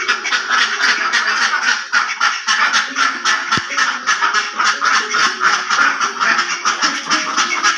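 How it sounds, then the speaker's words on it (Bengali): Domestic ducks on a village homestead quack loudly and continuously, a dense overlapping chorus of nasal calls close to the microphone with no talk over it. "হাঁস এখন ছেড়ে দিব, সেটা পুকুরে যাবে।"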